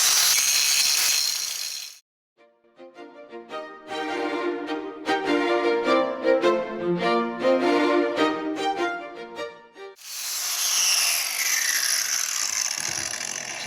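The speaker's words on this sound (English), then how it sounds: "I'm just going to grind that down real fast and then pull that off" Steel rivets on a brake pad's steel backing plate are ground down in two loud, harsh bursts, one at the start and one at the end. A stretch of ringing, tonal sound comes between them, with no talk.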